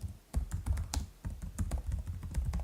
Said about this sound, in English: Don't you hate that you start typing and in the background